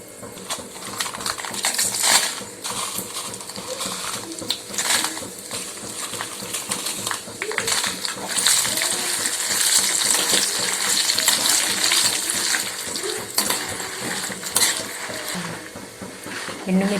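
Spices and urad dal roasting in a pan for curry leaf spice powder, a steady dense sizzle and crackle with occasional stirring scrapes running throughout at close range.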